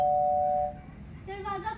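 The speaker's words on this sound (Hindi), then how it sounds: "तभी मुझे बेल सुनाई दी, डोरबेल।" A doorbell sound effect in a stage play gives a single sustained electronic chime at the very start, then fades as a voice begins speaking.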